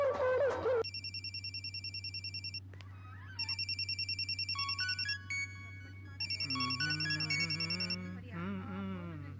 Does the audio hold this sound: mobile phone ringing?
yes